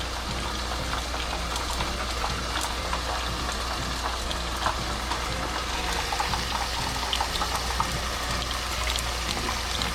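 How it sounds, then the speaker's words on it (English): A cream cheese wonton fries in hot oil, giving a steady, close, dense crackling sizzle with scattered pops throughout and no voices. "I'm gonna go ahead and put our first wonton into the oil very gently."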